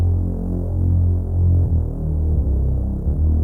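A thick, low, throbbing Reese synth bass drone with a slow wobbling pulse, loud and heavy, sustained throughout.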